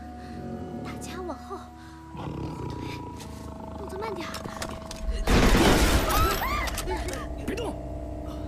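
A tiger roars and snarls in a tense action-movie scene, its growls rising over a loud blast of gunfire partway through, while voices speak throughout.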